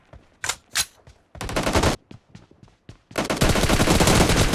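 In the battle royale game PUBG, a couple of single gunshots ring out, then a short rapid burst, then a sustained stretch of loud automatic fire, all close and sharp.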